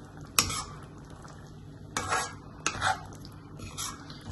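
Cashew paste is added to a pan and stir-fried for white mutton, with a few sharp clinks and scrapes of a spoon against the pan spaced over a quiet background.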